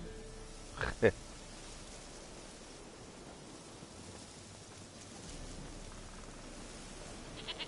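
A goat in The Witcher 3: Wild Hunt video game gives a couple of short, close bleats early on, heard over a constant rain-like hiss with faint voice in the background.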